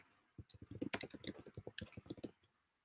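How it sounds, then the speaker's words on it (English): Rapid keystrokes on a computer keyboard, a dense run of close, crisp clicks lasting about two seconds, heard alone in a quiet room during a conversation. "stop typing there"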